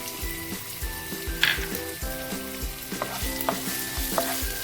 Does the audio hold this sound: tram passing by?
no